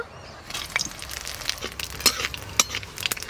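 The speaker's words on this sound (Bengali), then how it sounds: "এটা আলু ভর্তা মাখানোর জন্য ভাজা হচ্ছে" Dried red chilies and whole cumin frying in hot ghee and mustard oil, a soft continuous sizzle broken by sharp crackles and pops that are scattered irregularly throughout.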